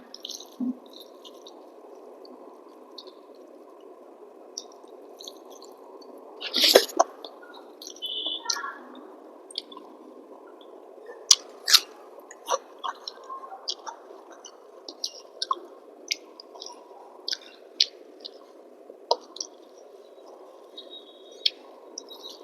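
Rice is kneaded together with curry and a pinch of salt by bare hand, giving soft, wet squishing and sticky smacks with scattered small clicks, quiet and close against a low steady background hum.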